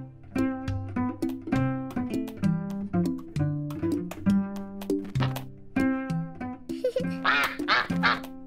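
A cartoon duck quacks repeatedly in a busy animated shop scene, its sharp nasal calls mixed with bright music and tonal effects throughout.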